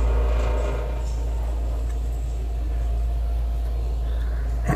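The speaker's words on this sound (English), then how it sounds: "You just hear noise from the motor." Traction dumbwaiter motor running as the car rises in a hospital shaft, a close, steady low hum and drone that holds level and ends in a short knock.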